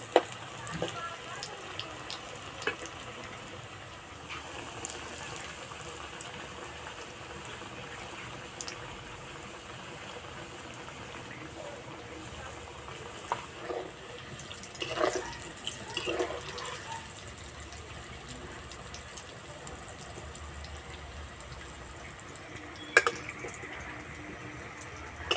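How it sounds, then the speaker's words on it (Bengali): Cauliflower pakoras fry in oil on medium heat, a faint, low, steady sizzle with scattered crackles and occasional clinks of a utensil in the pan. "মাঝারি আঁচে ভাজবো, বেশি জোরে জাল দেবো না"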